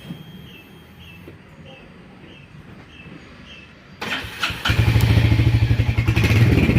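A Royal Enfield Hunter 350 motorcycle engine starts with a clatter and settles into a loud, steady running idle with rhythmic pulsing, close by.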